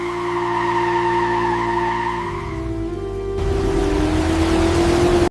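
Car tires skidding and sliding under braking, a loud sustained tonal squeal over engine noise that shifts pitch midway, then a harsher rough scrub to the end.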